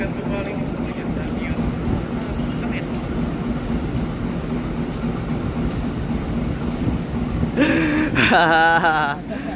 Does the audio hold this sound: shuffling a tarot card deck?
no